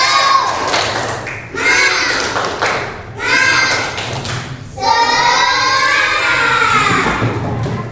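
Schoolchildren in a classroom shout the tepuk semangat clapping chant together in loud, lively bursts, with thumping claps and cheering voices filling the room and brief pauses between phrases.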